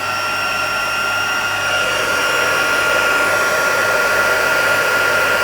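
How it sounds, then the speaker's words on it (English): A heat tool blows steadily while melting embossing powder during card making, a loud, continuous close-up whoosh with a high whine that holds unchanged throughout. "we're going to heat that with the heat tool"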